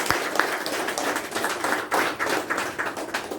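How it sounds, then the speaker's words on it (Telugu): An audience claps at a Telugu news-covered gathering honoring a donor named Moses, a mid-level crowd patter of scattered hand claps with a few sharper individual claps standing out. "మన ముఖ్యంగా మోజెస్ గారికి గట్టిగా చప్పట్లతో"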